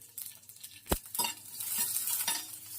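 Slit green chillies going into hot oil with garlic, stirred with a utensil: a soft continuous sizzle with scraping and clinks of the spoon against the pan, one sharp knock near the start, no talking.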